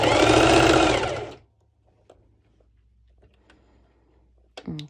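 A sewing machine runs a basting stitch through ruffled underwire top fabric in a steady, loud whir for over a second, then stops, leaving faint clicks and handling sounds before a brief voice.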